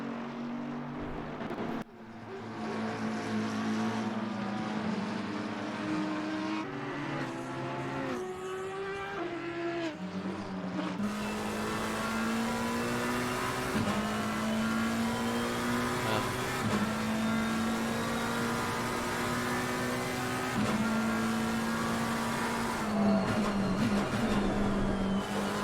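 Race car engines roar continuously in a sim-racing championship round of Assetto Corsa Competizione, loud and sustained with shifting revs and pitch as cars climb a hill, dense overlapping engine tones throughout.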